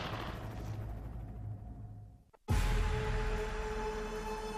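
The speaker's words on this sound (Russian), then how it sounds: "Первый выстрел невероятен." Sniper rifle fired from a Coast Guard patrol boat on the open ocean, one sharp, loud shot after a brief lull in the steady engine and water rumble, leaving a heavy roar behind it.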